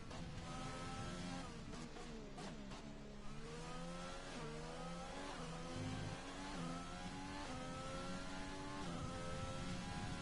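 Onboard engine of a Renault Formula 1 car lapping Zandvoort in a racing video game, a high-pitched screaming whine that climbs through the gears again and again, with quick downshifts and a steady, close, continuous roar.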